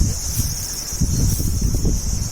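Steady wind in a forest rushes and buffets at the microphone, with a constant high insect drone running throughout.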